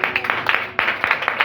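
A church congregation applauds and cheers in acclamation during a French-language service, a steady wash of clapping with bursts of louder claps and some voices mixed in.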